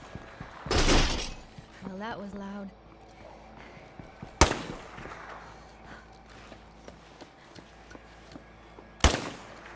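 Gunshots in a zombie apocalypse video game: three isolated loud blasts spaced several seconds apart, the first heaviest, over a quiet creaking game ambience.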